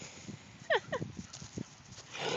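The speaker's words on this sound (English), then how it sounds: "Stop barking at me." A dog gives two quick sharp barks close by, followed by a softer yelp, outdoors with faint background noise.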